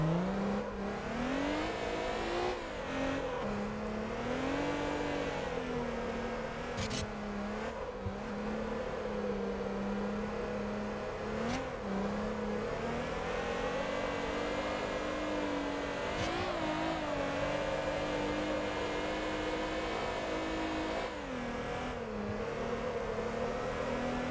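Drift car engine in the MotorTown video game, lugging low then revving, a steady droning tone that rises and dips repeatedly over the whole stretch with no speech.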